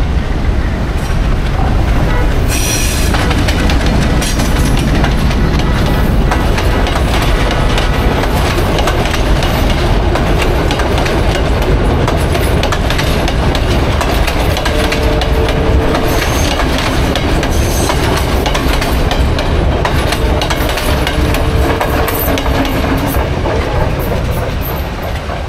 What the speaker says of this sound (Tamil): ட்ரெயின் வந்துட்டுருக்கு மெரைன் டிரைவ் பக்கமாக